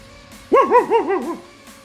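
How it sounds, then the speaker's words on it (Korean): A neighbour's dog gives a short run of warbling, yelping barks that rise and fall for under a second, fairly close and clear against a quiet background. "옆집에서 개가 짖습니다"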